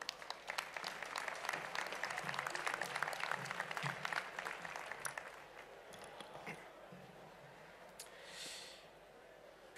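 Crowd applauding at an awards ceremony, with a thick burst of clapping that thins out after about six seconds into scattered claps and quiet room noise.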